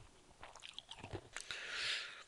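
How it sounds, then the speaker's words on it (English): Tums antacid tablets crunched and chewed up close, a few quick biting crunches followed by wet, squishy mastication, with no talking. "Sorry about the chewing sound."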